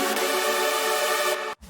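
Synth lead sent fully wet through reverb and delay in FL Studio, a sustained bright tone washing loudly for over a second before cutting off abruptly, with no voices.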